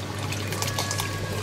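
Hot liquid splashes and trickles into a Romanian vegetable soup with meatballs, a brief, close, continuous pouring sound over a low steady hum.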